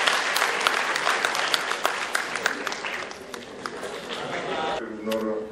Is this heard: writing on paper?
no